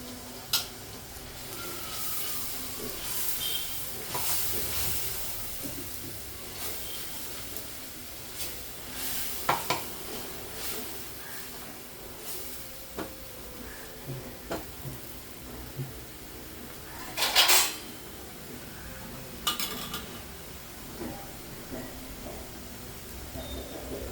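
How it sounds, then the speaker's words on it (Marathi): A masala of coriander powder, cumin, turmeric and red chili powder sizzles softly in a pan while being stirred, with scraping strokes and occasional sharp clinks against the metal. "असं लाल परतून घ्यायचा मसाला"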